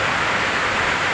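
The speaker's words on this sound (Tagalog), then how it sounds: "umuulan na." Rain falls at night, making a constant, even wash of hiss that is loud and near and does not change over the short stretch, with no talking.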